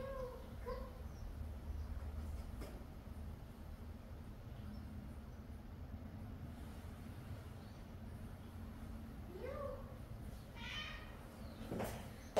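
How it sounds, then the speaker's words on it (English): Cats meow around a pool garden at a guesthouse near Essaouira, Morocco, a few short cries scattered across a quiet outdoor background, fairly faint and at a distance, with a brief faint rumble passing. "there'll be a few cats here."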